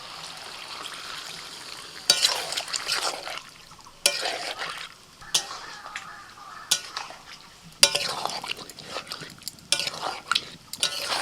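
Prawns and pointed gourd stirred in a pan with a little water, a soft sizzle under repeated sharp scrapes and clinks of a spatula against the pan.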